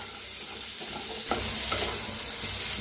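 Eggs roast in a dry pan before oil goes in for a spiced masala egg dish, giving a steady sizzle broken by a couple of sharp scraping stirs partway through, close and alone with no voices.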